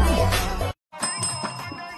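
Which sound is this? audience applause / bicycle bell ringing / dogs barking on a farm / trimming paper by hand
bicycle bell ringing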